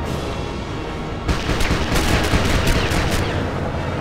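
Rapid bursts of gunfire from shooting in the LEGO Batman video game, a sustained loud volley of cracks starting about a second in and continuing steadily to the end, with no talking.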